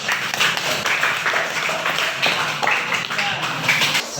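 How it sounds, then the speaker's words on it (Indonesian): Classroom students clapping for a group, a busy, uneven patter of hand claps with chatter and voices mixed in over a few seconds. "Oke, tepuk tangan untuk kelompok Juan."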